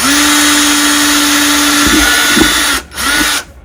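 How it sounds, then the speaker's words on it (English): A cordless drill whines steadily at high speed, then bites into melamine with a few bumpy surges before cutting off abruptly, close and loud. "I've got my cordless drill, and I'm just going to go ahead and pierce it"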